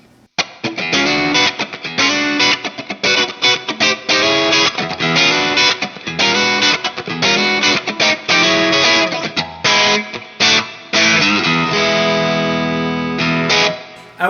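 An electric guitar, a Fender Stratocaster on its Texas Special middle pickup with the tone controls all the way up, plays a loud, close rhythm part with dense strummed chords and a slight crunch, and no one speaks.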